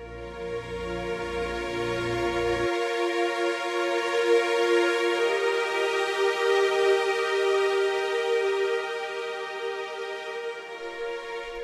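Cinematic orchestral music from the Nucleus Lite library played with dynamic range set to zero, a sustained, even, full ensemble swell that holds steady throughout without talk.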